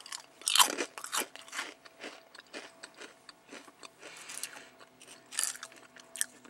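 Crisp bites and crunchy chewing of Good Good Eat Japanese ramen noodle crackers, close up, with an uneven run of sharp crunches over about six seconds and no talking.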